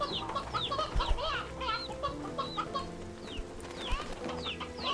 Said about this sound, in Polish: Ile kurczaków malutkich, o panie.